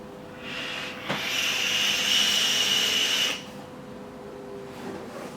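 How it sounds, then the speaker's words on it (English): A single long draw on a Deadrabbit V2 vape with its airflow fully open, heard up close as a steady airy hiss that rises abruptly, holds for about two seconds and then drops away. "my first vape, full open"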